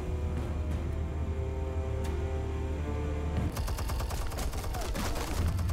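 Gunfire erupts in the Batman Telltale video game, a rapid burst of close, loud shots starting partway through over a steady droning score.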